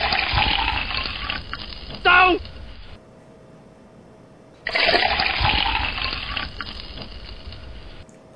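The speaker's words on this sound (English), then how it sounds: "Then you put your 2 cups of warm water in." Warm water poured from a running stream into flour for homemade ravioli dough, a loud splashing gush that stops, then resumes after a pause; a voice calls out briefly in between.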